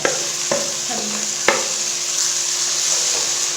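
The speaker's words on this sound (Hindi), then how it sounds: "अब इसमें डालेंगे अदरक लहसुन का पेस्ट।" Ginger garlic paste sizzles and fries with browned onions for a Pakistani fish curry, a steady close hiss with a few stirring scrapes and clicks near the start.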